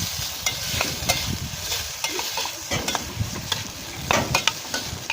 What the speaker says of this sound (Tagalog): Ginisa ko lang ng konti yung ating sea urchin kasi luto na siya.